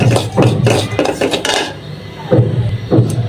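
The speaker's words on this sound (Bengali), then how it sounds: "ঘির সাথে ভেজে নিই" Semolina frying in ghee with cardamom and cinnamon, heard as rhythmic spatula scrapes and metallic clinks against the pan, loud and close, in repeated strokes.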